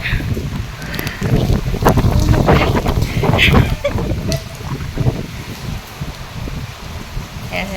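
Strong monsoon wind on a rooftop terrace buffets the microphone in loud, rumbling gusts, with rustling and faint background noise throughout.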